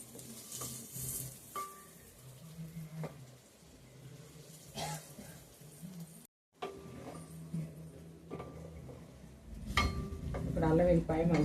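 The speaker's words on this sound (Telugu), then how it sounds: "ఇప్పుడు అల్లం వెల్లిపాయ మంచిగా రెడ్ కలర్లో ఇట్లా మంచిగా వేగింది ఈ నూనెలో" Ginger and garlic fry in hot peanut oil for a prawn pickle, giving a steady close sizzle with occasional stirring scrapes and a brief break midway before the frying swells louder.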